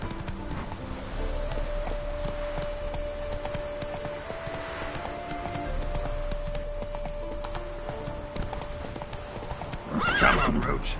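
Hooves of the horse Roach clip-clopping at a gallop in The Witcher 3 game, a steady rhythmic drumming with game music beneath and a whinny near the end.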